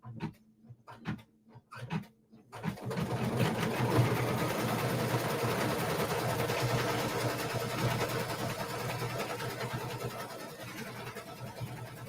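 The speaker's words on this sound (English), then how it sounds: "it's going to do a placement stitch for the tree now" After a few sparse taps, an embroidery machine sews a placement stitch for a tree motif on a quilt block, settling into a continuous close mechanical hum that runs steadily for about ten seconds.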